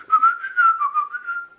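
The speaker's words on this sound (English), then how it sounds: "Can you whistle?" A person whistles a short, wavering tune of several connected notes, close and clear, ending on a held pitch, with no other sounds.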